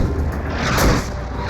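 A tank gun fires a shell at a Panther tank during the battle for the Hochwald Gap: one deep, loud boom swells out of a steady, heavy rumble.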